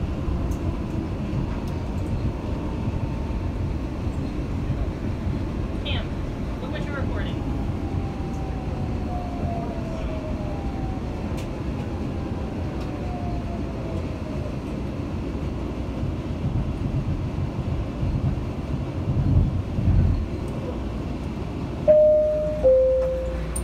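The Tampa Airport automated train rides toward the main terminal with a steady low rumble, rising whine tones as it moves, and electronic chimes near the end.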